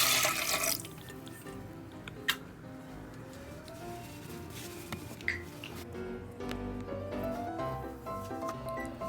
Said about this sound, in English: Place red bean in a large pot again and add 6 cups of water.